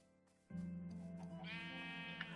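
Minecraft sheep bleating in-game, a loud harmonic bleat that begins abruptly and holds steady for about two seconds, with a higher wavering tone entering toward the end.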